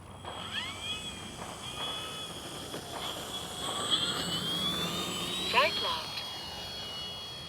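An FMS 1400mm F4U Corsair RC warbird taking off, its electric motor whining steadily with rising and falling tonal sweeps as it moves nearby, under a moderate level of background noise.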